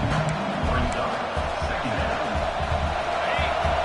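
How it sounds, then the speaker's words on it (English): Stadium crowd in the NCAA 26 college football video game, a steady broadband roar that keeps up throughout with low rumbling beneath, loud and continuous with no voices. "Listen to this crowd just shaking the girders of this place, trying to help their defense"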